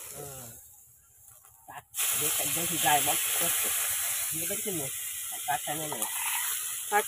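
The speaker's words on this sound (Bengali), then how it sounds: "আর আমি এবার ভেজে নেবো একে একে" Turmeric-and-salt-rubbed pomfret frying in very hot oil gives a loud, steady broadband sizzle that starts abruptly and continues throughout, with a voice talking over it.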